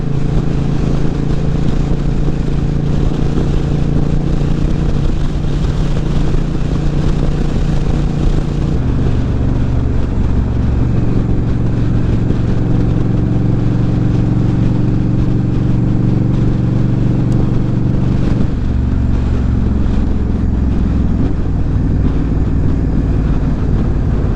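A Honda Rebel 1100 DCT motorcycle under way, its engine a loud continuous drone with heavy wind rush, the pitch dropping partway through as the bike slows while held in sixth gear.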